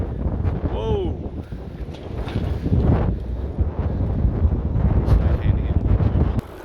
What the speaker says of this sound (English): Man, it is windy.